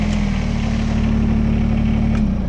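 A Kubota BX23S compact tractor with backhoe and front loader idles close by, a loud, steady mid-pitched diesel rumble that holds even throughout, with no voices.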